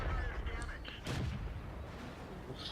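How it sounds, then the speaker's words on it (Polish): Hellcat tank destroyer firing its gun in World of Tanks, with a sharp blast near the one-second mark standing out over a dense, steady bed of engine rumble and battle noise. "Hellcat jak to Hellcat, jedzie sobie strzela."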